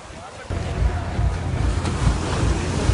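Surf at Juna Beach in Goa rushes steadily after a brief quiet start, a broad, close wash of breaking waves mixed with wind noise on the microphone.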